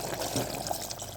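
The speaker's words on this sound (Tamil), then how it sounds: "தண்ணி வற்றி வாங்க உலை தண்ணியை ஊற்றிக்கலாம்." Water pours into a pressure cooker for Dindigul-style mutton biryani, a steady, close, splashing rush that runs without a break over faint kitchen background noise.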